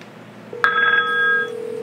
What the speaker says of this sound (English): So there's what it looks like when it's ringing.